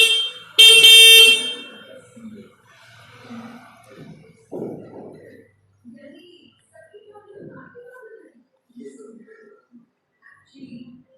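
A short, loud horn blast from a Honda Activa 6G 110cc scooter sounds near the start, then someone talks quietly with pauses.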